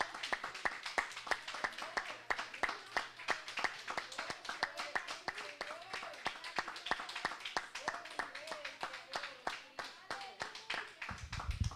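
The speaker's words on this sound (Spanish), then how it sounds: "Démosle un aplauso al Señor, mis hermanos." A church congregation claps in praise to the Lord, rapid sharp hand claps in a steady run with voices speaking and calling out over them throughout.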